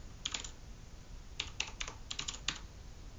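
Password entry on a computer keyboard: quick bursts of light, close key clicks in irregular clusters over a faint steady hiss.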